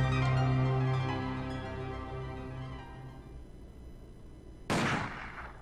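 A single sharp gunshot rings out in The Silver Case video game, cutting in near the end after a fading sustained tone.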